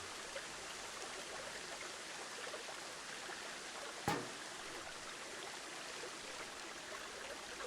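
A waterfall in the Planet Zoo video game rushes in a steady, unbroken wash of water, with a single sharp click near the middle, at even level and with no voices.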